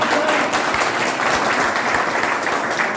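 A large crowd at an event claps loudly and steadily in a dense, even roar of applause that holds for the whole stretch.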